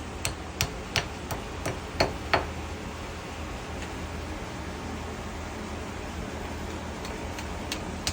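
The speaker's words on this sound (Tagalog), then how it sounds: "Martilyo." Hammer strikes while a Kolin window aircon bracket is being installed: about a dozen sharp, uneven knocks, strongest early on and faint against a steady hiss of background noise, with no talking.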